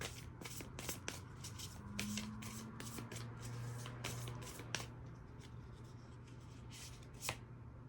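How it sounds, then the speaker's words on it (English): Tarot cards being shuffled by hand in a series of quick, crisp riffling bursts at close range, with soft rustles and taps between them and no talking. "Let's see the tarot card that comes out for this."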